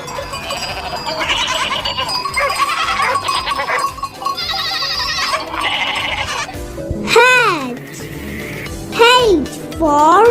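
Goat bleating in wavering, drawn-out calls, several in a row toward the end, over a busy background of music-like tones.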